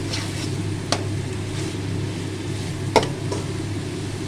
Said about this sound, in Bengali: টমেটো ঘষে দিলাম। এবার এটা ভালো করে কষিয়ে নেবো।